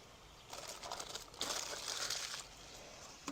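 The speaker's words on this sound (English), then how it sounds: "take off the foil" Aluminium foil crinkling as it is pulled off a pan from an Instant Pot inside a minivan camper, faint close rustling in a couple of short bursts.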